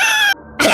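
A person imitates a cat meow in a short, loud burst: a tonal mew that breaks off briefly and then resumes.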